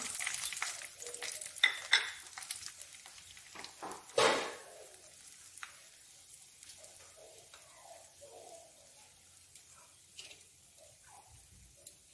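Cloves, bay leaves and dried chillies frying in hot oil give soft, intermittent sizzles and crackles with a few sharp pops and stirring clicks, fairly quiet overall with one louder hiss partway through.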